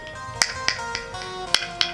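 Sharp hand claps from a religious discourse demonstrating clapping as a remedy, six crisp single claps at uneven intervals, fairly faint over a quiet hum.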